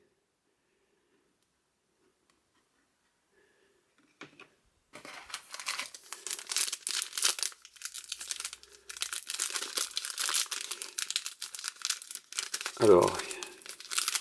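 Panini Score Ligue 1 2022-23 sticker packets being torn open and crinkled by hand, a long stretch of close, rustling foil-wrapper crackle after a few seconds of near silence, with a brief spoken word near the end.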